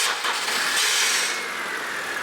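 A Honda Civic engine idling just after starting, following cleaned injectors and a tune-up, giving a steady close hum with a broad hissing wash that holds at an even level throughout.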